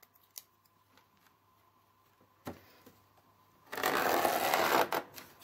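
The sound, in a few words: cutting anti-varroa wire mesh with a utility knife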